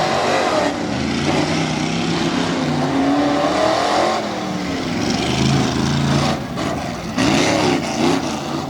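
Tough Trucks Challenge stock trucks race around a dirt course at the Bloomsburg, PA fair, giving a steady loud engine roar with revving surges and spells of throttle change throughout.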